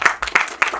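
Crowd applause at a live event, a short burst of dense clapping from an audience, fairly loud and close with no voices over it.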